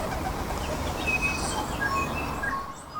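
Birds calling on a city street corner at Waterloo and Brook Street in Johnsonville, several short calls over steady traffic and outdoor noise, fairly close and moderate in level.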